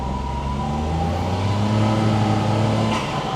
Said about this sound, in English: Now I can hear the engine better. Oh my God, I can hear the turbo actually.